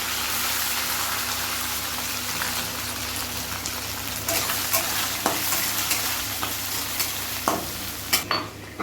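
Chopped onion and tomato fry in a pan for a vegetable dish with panch phoron and green chilli, sizzling steadily, while stirring adds sharper scrapes and pops toward the end.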